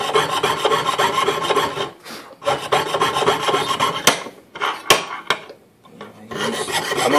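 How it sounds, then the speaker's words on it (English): A hand saw rasps steadily around metal rowels, rhythmic scraping strokes with brief pauses between bursts, close and unaccompanied by talk. "I'd use this saw all the way around the rowels, and that takes lots of time."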